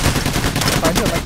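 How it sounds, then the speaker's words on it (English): Rapid gunfire in the shooter game Payday, a dense, loud burst of overlapping shots fired down a hallway with no pauses. "shooting down the hallways from a distance"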